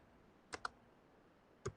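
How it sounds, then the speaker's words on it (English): One-finger typing on a computer keyboard: a few quiet, isolated key clicks, two close together and then one more after a pause, in a silent room. "Are you typing with two fingers? No, one finger."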